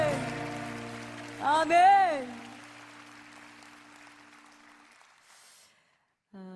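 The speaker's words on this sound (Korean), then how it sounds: "우리 주님께 영광의 박수 올려드립시다" A church congregation at a Korean prayer service claps in a soft, diffuse wash of applause beneath a voice that speaks and sings, and the clapping fades toward the end.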